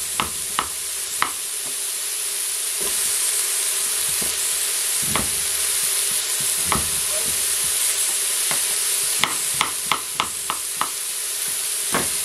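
Peas cooked together with mixed vegetables in a pan give a steady close sizzle, broken by repeated scraping and clinking as a utensil stirs them, with no talking.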